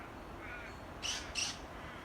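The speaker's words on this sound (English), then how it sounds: "Birds are complaining." Two short bird calls sound close together in the middle, each a brief harsh caw, over a constant roar of gale-force wind buffeting the microphone.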